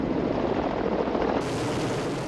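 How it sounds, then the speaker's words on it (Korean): A helicopter drawing closer over a 1,230 m mountain hiking trail during an airlift of silvergrass plants, its dense rotor and engine roar steady and loud throughout with no voices. "헬기가 점차 가까워오자"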